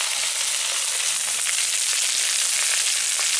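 Fish sizzling steadily in hot oil in a frying pan, a dense, continuous crackling hiss at close range with scattered sharper pops, no voices.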